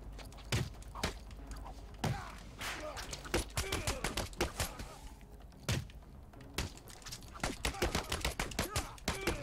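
Rapid bursts of gunfire in the video game Batman: Arkham City crackle in uneven volleys, with thuds and impacts scattered throughout over a low background.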